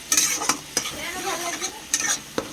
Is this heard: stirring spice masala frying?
yes